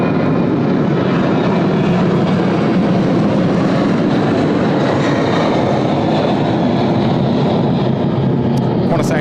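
A heavy jet airliner roars low on final approach to runway 34 at Sydney Airport, a loud, unbroken engine rumble that holds steady throughout, with no one speaking over it.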